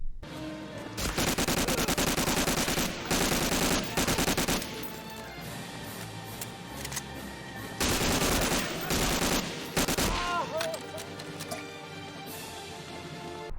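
Bursts of rapid automatic fire from a Sturmgewehr assault rifle in Medal of Honor: Allied Assault, loud volleys separated by short gaps, with explosive echoes and clatter.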